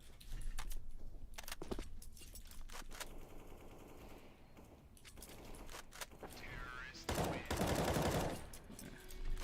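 M4A1-S rifle fire in a competitive shooter game, with dense bursts of sharp reports mixed with game effects and background clatter, while voices talk over much of the action.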